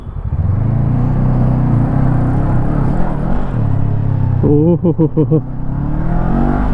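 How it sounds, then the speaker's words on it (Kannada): A 2024 Honda NX500 motorcycle starts up and idles with a loud, close, steady exhaust rumble, then a few quick throttle blips rev it in short pulses before it settles back, with a brief exclamation from a voice. "Let's start the engine. Exhaust ಈ ಥರ ಕೇಳಿಸುತ್ತೆ."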